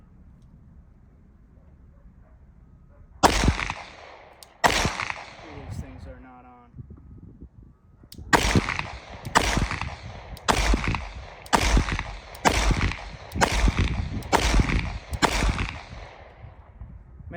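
Glock 19 Gen 5 pistol fired outdoors in the rain, two loud sharp shots, a brief pause with a voice, then a steady string of about nine evenly spaced booming reports; someone speaks briefly.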